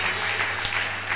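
A church congregation applauding and cheering for Jesus at a French-speaking service led by a pastor, a dense wash of clapping with crowd voices mixed in.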